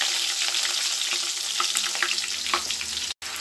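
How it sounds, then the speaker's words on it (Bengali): Fish seasoned with salt and turmeric fries in hot oil, giving a steady, close sizzle with small crackles and stirring scrapes throughout and no talk. "তো মাছ ভাজা হচ্ছে"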